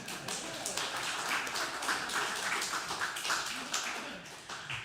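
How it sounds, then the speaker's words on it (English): A church congregation applauds, many hands clapping in a steady, moderately loud patter that runs throughout, with a few voices murmuring beneath it. "Yeah, go ahead and applaud that."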